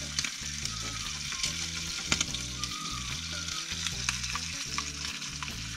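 An egg frying in a small pan and pushed around with a spatula: a dense, constant sizzle close up, with scattered light scrapes and clicks throughout and no speech.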